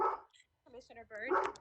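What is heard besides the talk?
dog barking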